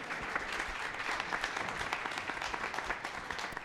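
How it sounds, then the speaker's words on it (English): A crowd at a reverse pitch event during Calgary Innovation Week applauds, and the clapping comes through as a continuous, fairly soft wash from start to finish. "Okay, round of applause."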